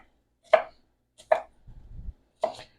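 A knife chops through half a red onion on a cutting board in three crisp, separate thuds spaced about a second apart, close and clear, with a soft rustle of onion pieces between the second and third strikes.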